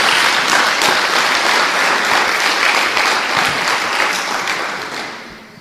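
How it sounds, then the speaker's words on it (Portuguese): Church congregation applauding during a Portuguese-language Bible study service, a dense sustained round of clapping from many hands that gradually fades out toward the end. "Dê uma salva de palmas a Jesus"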